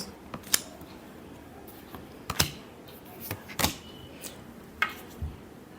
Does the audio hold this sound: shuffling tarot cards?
yes